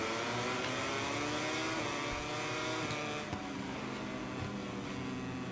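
Racing motorcycles in the MotoGP 22 video game scream past with high, revving engine whines that rise and fall continuously, loud and dense throughout without any speech.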